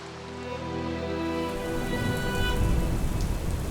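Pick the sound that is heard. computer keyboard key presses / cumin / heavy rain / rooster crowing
heavy rain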